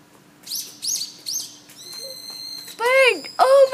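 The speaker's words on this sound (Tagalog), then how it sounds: "There's a bird!" A bird calls repeatedly in short chirps, close and clear, followed by high whistled and sweeping warbling notes, with a brief voice in the middle.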